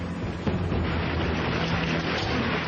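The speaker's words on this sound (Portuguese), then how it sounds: "Jim Leonard capturou em filme esta chuva de granizo em 89" Hail pours down in a Texas storm, a dense, continuous roar of ice stones hitting the ground and surfaces, loud and unbroken throughout with no voices.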